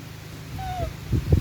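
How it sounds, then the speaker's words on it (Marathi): A single house cat gives one short, thin meow up close on a rainy monsoon day in rural Konkan, followed by a few low thumps. "मियाव मियाव करते भूक लागली की येते मागून"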